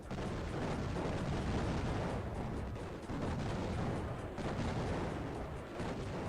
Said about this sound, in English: The air-to-air missiles, our opponents don't stand a chance.